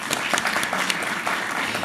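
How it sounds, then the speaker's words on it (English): Steady crowd applause fills the hall at a conference session, dense overlapping claps at an even, fairly loud level throughout with no talking. "deserve a lot of applause to the organizer"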